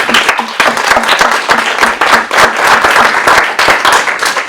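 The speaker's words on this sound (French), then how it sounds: "je crois qu'on peut aussi les applaudir très très fort" A ceremony audience at a Malestroit nursing home's New Year gathering claps loudly, with distinct individual claps falling into a loose, almost rhythmic beat with no talk.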